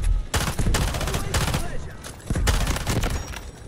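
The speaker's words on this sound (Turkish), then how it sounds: "Silahı deneyelim bakalım. SMG gibi lan." An SMG fires in Delta Force: Hawk Ops, with loud, close bursts of rapid automatic gunfire separated by brief pauses, several volleys in a row.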